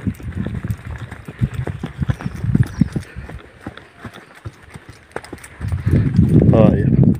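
Horse hooves clip-clop in an uneven walking rhythm on the ground, with a person talking over them and wind or handling noise growing toward the end.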